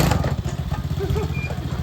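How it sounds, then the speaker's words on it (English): A swapped-in engine, fitted in a machine with a three-speed gearbox and reverse, runs steadily close by, with a low, loud, evenly pulsing throb like a small motorcycle or mower engine. No one talks over it. "Something's broken. Oh well. It runs."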